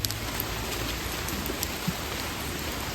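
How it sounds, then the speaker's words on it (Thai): Rain starting to fall outdoors makes a soft, steady patter and hiss, fairly faint and even, with a few scattered drop ticks and no voices. "นี่ฝนก็เริ่มลงเม็ดลงแล้ว"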